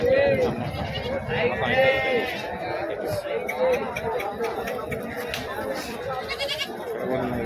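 Several large goats bleat repeatedly amid the chatter of a busy livestock market crowd at Pebbair, with people talking nearby throughout.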